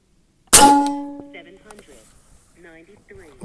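A Benjamin Bulldog .457 big bore bullpup airgun fires once, a single loud sharp crack with a brief ringing tail, followed by quiet and a little faint talk.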